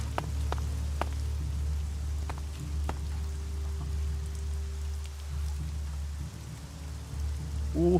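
Steady rain falls in the video game ELEX, a constant broad hiss with occasional sharper drop-like ticks, holding at an even level throughout with no voices.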